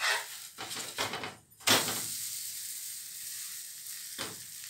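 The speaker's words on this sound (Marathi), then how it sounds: "आता आपण काय करणार वरून थोडंसं तेल सोडणार आणि ह्याला पलटी करून घेणार" A tomato omelette frying in oil sizzles loudly in a pan, with a scrape and clatter as it is flipped, then a steady hiss follows and another brief scrape comes near the end.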